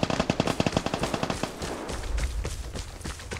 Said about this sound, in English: That sounds like 2 AKMs firing at each other.